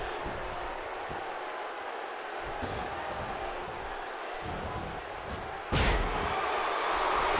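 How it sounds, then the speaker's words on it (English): A WWE Raw wrestler is slammed onto the ring mat with one sharp, heavy thud late in the clip. A softer impact comes earlier, all over a constant roar of the arena crowd. "Deep arm drag by Harper slams Darren Young into the mat"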